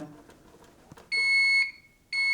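A high electronic power supply failure alarm on an Avocent console server beeps in two sustained tones after a power cable is unplugged, the first lasting about half a second, the second starting just after, following quiet clicks and handling noise.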